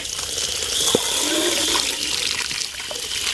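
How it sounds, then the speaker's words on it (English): Water is dumped out of a plastic bowl into a sink: a continuous splashing pour with a gurgling, draining wash and a small clink near the start, with no speech. "Now I can dump out this bowl like that."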